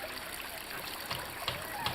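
A thin stream of water trickles and splashes softly out through a small hole, meant for watering plants. It sounds faint, close and continuous.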